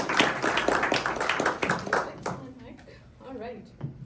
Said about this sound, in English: So please give a big round of applause for Nika